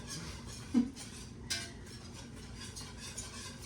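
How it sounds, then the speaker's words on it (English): Whisk clicking and scraping in a pot of boiling apple mixture, soft rhythmic stirring under a steady bubbling hiss with a couple of sharper metallic taps. "it does specifically say to whisk it, so I'm gonna whisk it"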